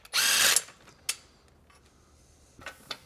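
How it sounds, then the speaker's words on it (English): A 12mm socket driven by a power tool loosening exhaust flange nuts on a 2024 Triumph Bonneville Bobber: one short whirring burst, then a brief second buzz and a few faint clicks, close and otherwise quiet. "So now we're going to get these two nuts off of here. A 12mm socket."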